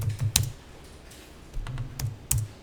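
Keys tapped on a computer keyboard while accounting entries are keyed in, small bursts of quick clicks separated by short pauses, close and crisp with no voices.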